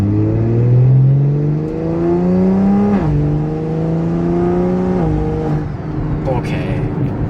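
A BMW X3M fitted with a single turbo kit accelerates, its engine tone climbing steadily through gear shifts with brief dips, loud and close from inside the car, with a voice talking over it.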